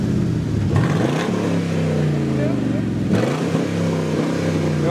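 A Mustang's engine revving hard in a noise contest against an Audi TT, loud and close, rising and falling in pitch as the throttle is worked, with voices talking over it.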